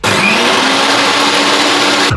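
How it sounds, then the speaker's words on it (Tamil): A mixie mixer grinder grinds cardamom seeds in a continuous loud, high whirring burst that starts and stops abruptly. "மிக்ஸி போட போறேன், காது முடிக்கோங்க."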